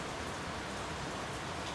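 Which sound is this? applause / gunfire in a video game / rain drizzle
rain drizzle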